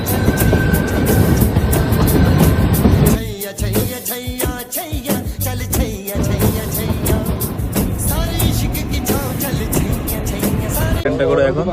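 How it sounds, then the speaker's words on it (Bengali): Shimla toy train rolling along on the narrow-gauge mountain line, a steady loud rumble and rattle of carriages throughout, with a dense mix of passenger voices and chatter over it. "দেখুন এখন আমরা আছি সিমলার টয় ট্রেনে।"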